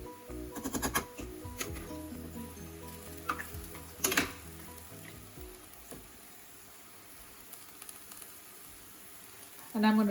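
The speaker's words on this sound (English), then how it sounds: "until the veggies are getting a little stir fried and our coconut cream is boiling" Vegetables stir-frying in a pan for Asian noodles while coconut cream boils, giving a steady sizzle and bubbling with scattered clinks and stirring knocks, loudest early on and settling into a quieter simmer.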